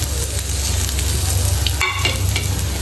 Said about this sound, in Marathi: लसूण, थोडंसं मोहरी, जिरे हे छान परतून घ्यायचे